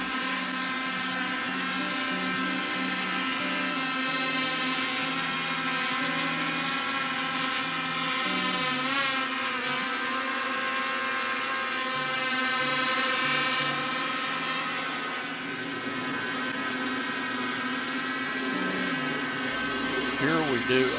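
A Yuneec Mantis Q drone flies steadily after takeoff, its loud, constant multi-tone whine of propellers and motors shifting slightly in pitch throughout, close by and continuous.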